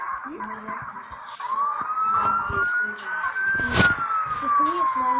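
A police car siren in the racing game Payback 2 wails upward and sweeps down over a synthetic engine drone, loud and close, with game effects and a brief crash-like burst midway.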